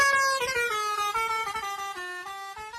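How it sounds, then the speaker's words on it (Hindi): A car horn sounds in a single sustained, harmonic-rich blast that drops from a higher to a lower pitch partway through, as it would when the car passes, heard alone and close. "जब ये तुमसे दूर जाती है तो हॉर्न की आवाज लो पिच में बदल जाती है"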